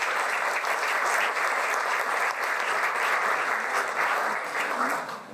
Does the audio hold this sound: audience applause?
yes